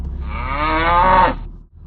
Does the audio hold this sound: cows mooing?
yes